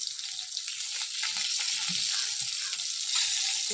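Turmeric, ginger paste and salt frying in a pan for shukto, heard as a bright, steady sizzle with soft low knocks of stirring underneath, close and continuous over a few seconds.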